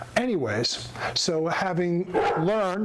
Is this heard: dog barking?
yes